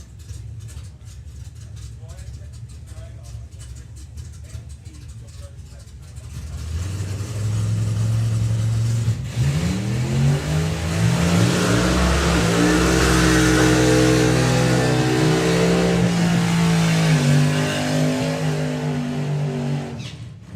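Drag racing cars at a hot rod drag meet roar through a corner, engines rising from a distant rumble to a loud, close revving howl that holds for several seconds, with an announcer talking over them.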